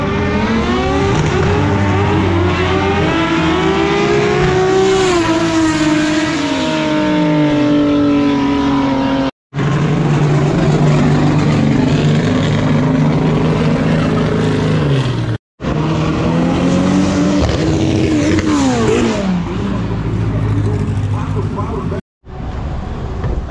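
Drag racing cars at a Gaúcho drag racing championship stage at Tarumã rev hard and accelerate, loud and close, with rising and falling engine pitch in three bursts broken by short gaps.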